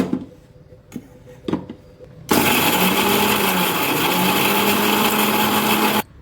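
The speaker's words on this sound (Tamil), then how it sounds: "தேங்காய் பச்சை மிளகா இஞ்சி சீரகம் இதெல்லாம் சேர்த்து மிக்சியில் அரைச்சிட்டு வந்துடலாம்" A kitchen mixer grinder grinds coconut, green chilli, ginger and cumin, starting with a few short knocks and pulses, then running in a loud, continuous whirring burst for several seconds before cutting off abruptly.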